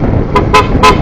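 Three short, loud blasts of a newly fitted Pia car horn in quick succession, close by, with engine rumble underneath.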